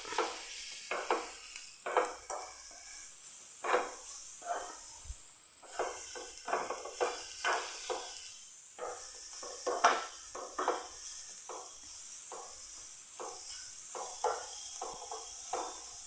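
Sugar and grated coconut are stirred in a pan while the sugar melts, producing repeated scraping strokes of a spoon against the metal in an irregular rhythm over a faint, steady sizzling hiss.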